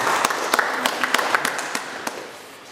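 A small audience claps at Dr Atam Hamrahi's 86th birthday celebration, a steady patter of applause with distinct individual sharp claps that thins and fades toward the end.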